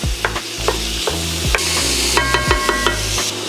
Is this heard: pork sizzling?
yes